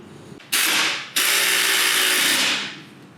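A ratchet tightens bolts during a lowering-spring install on a Porsche 718 Cayman: two quick bursts of fast, loud clicking, the second longer and sustained before fading out.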